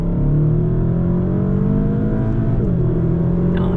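A car accelerates hard on the Nürburgring Nordschleife, its engine note climbing steadily and loud inside the cabin before a brief shift, with no talk.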